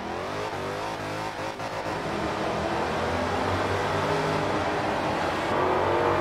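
A Toyota Supra engine in the video game Forza Horizon 4 roars steadily and accelerates in second gear to 60 km/h, a continuous revving drone with a brief rattle early on, no voices.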